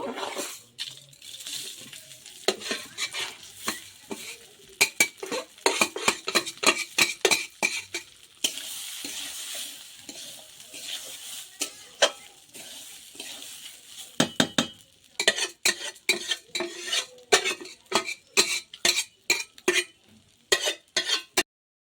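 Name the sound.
Gobindobhog rice being stirred and fried in a pan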